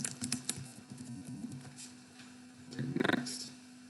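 Computer keyboard typing a virtual machine name, a few quiet bursts of clicks with a faster run of taps near the end, soft and close over low hum.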